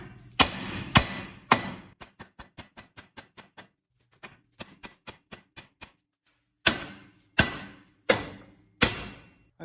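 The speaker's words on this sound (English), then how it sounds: "And we'll give this a little tap." A hammer taps a nut on a Dodge Ram front axle while the truck's 4x4 wobble is fixed. A few heavy ringing blows give way to a quick run of lighter taps, a pause, more light taps, then several hard spaced strikes.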